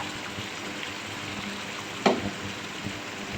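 Chopped onion frying in a pan for a spicy goat-meat (mutton) curry: a steady, soft sizzle with one brief utensil clack midway.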